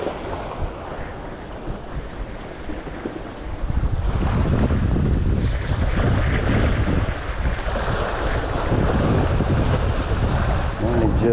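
Strong waves slap against a fishing boat at sea under gusting wind, with the wash building louder partway through and wind buffeting the microphone, loud and continuous.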